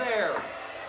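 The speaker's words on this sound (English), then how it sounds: "why is it that even when the hair dryer isn't under anymore, it still hangs there?" Hair dryer blowing steadily in a Bernoulli's principle demonstration, a close, loud airy whoosh with a falling whine that settles into a constant rush.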